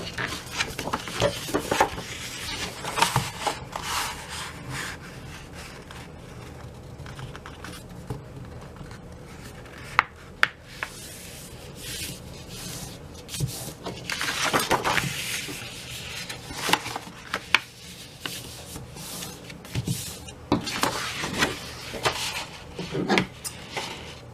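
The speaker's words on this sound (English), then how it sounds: "So you can go ahead and score and trim all of your pages the same way." Paper pages for a junk journal pocket album being scored, folded and trimmed by hand, with soft intermittent scraping, creasing and tapping sounds close by, quiet throughout.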